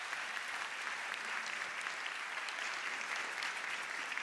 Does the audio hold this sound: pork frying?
no